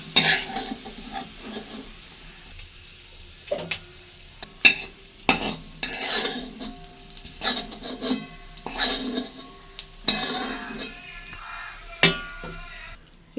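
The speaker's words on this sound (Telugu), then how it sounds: "అల్లం అయితే ఇలా వేయించుకోవాలి" Ginger sizzles and fries in a pan while a spoon or spatula scrapes and stirs it in irregular bursts. The sound is close, with short rasping strokes and quiet gaps between them.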